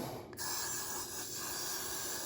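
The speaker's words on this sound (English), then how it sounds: "I'm gonna spray some got2b spray on it just so it can hold down the hairs" An aerosol can of got2b hairspray hisses onto a 613 blonde wig in a steady, close burst, pausing briefly at the start before continuing as one continuous spray.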